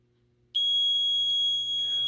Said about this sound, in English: it'll set off an alarm